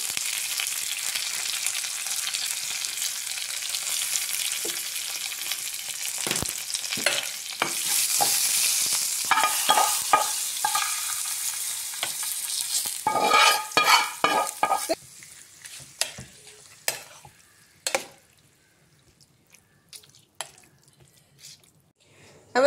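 Green chillies and curry leaves sizzle loudly in hot oil in a pan as they are stirred for a vegetarian carrot curd rice, with the frying hiss fading and giving way to scattered scraping clinks.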